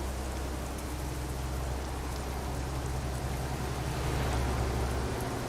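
Steady rain in the American Truck Simulator video game, a constant dense hiss with a low rumble of the truck running underneath, continuous and fairly loud throughout.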